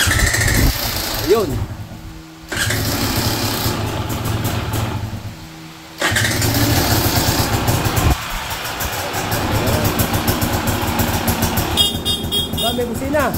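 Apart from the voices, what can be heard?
KTM 300 EXC motorcycle engine starting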